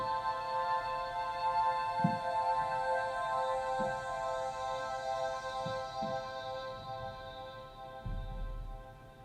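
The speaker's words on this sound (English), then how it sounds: "I have another one that's called Luscious Vocal Pad" Luscious Vocal Pad synth pitched up an octave, a soft airy sustained chord with a breathy vocal quality, quiet and smooth, with faint low thumps underneath and no speech.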